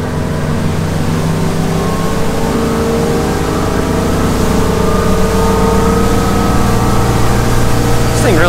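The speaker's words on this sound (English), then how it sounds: "So I'm going to get the boat on plane." A 2007 Chaparral 276 SSX motorboat with a 496 engine runs loud and close, its pitch slowly climbing as it accelerates onto plane, with rushing water and wind noise throughout.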